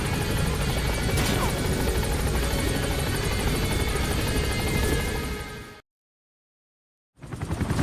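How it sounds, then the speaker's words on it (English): Loud, steady helicopter rotor thump and engine whine in Metal Gear Solid V: The Phantom Pain, continuous and close for several seconds before cutting to silence, then resuming abruptly. "these helicopters are way too loud"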